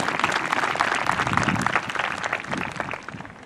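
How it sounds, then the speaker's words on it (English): Graduation crowd applauding teachers and families, dense sustained clapping from a large audience, steady and loud before tapering slightly at the end. "let's give them a round of applause"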